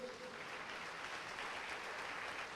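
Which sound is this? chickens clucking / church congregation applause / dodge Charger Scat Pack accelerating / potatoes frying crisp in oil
church congregation applause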